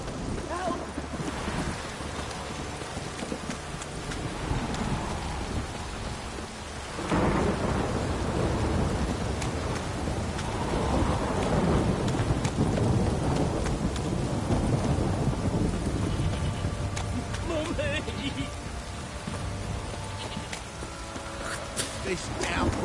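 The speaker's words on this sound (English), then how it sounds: "This downpour's a bastard" A heavy downpour with thunder: dense, loud rain roaring steadily with deep rumbles, swelling stronger after a few seconds, while voices speak faintly beneath.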